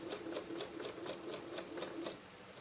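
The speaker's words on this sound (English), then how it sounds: "I'm going to keep stitching my 1/4 inch seam." A sewing machine stitches a quarter-inch quilt seam, its needle hammering out a steady, fast rhythm of close, even pulses that carry on unbroken for a few seconds.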